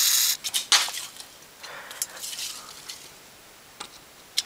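Short bursts of aerosol cleaner sprayed into the taped-up tuning and volume controls of a Kriesler valve radio, several sharp hissing puffs early on, then softer intermittent spritzes and faint clicks, close and fairly quiet.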